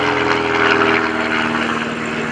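A loud, steady aerobatic propeller airplane engine drones close by at an airshow, its rough buzzing hum holding constant with no voices.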